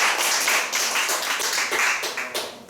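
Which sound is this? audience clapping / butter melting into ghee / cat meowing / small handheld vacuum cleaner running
audience clapping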